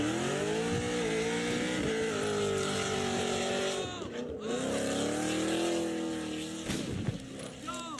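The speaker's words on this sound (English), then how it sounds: "This guy was trying to show off his car engine." A show-off's car engine revs hard and loud in sustained, rising and falling bursts, with a brief drop near the middle before climbing again, and faint voices underneath.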